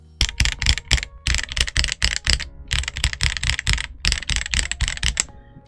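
Keys clatter rapidly on an Ajazz AKS068 Alice mechanical keyboard, a loud, rattly burst of typing in several runs separated by brief pauses, heard up close.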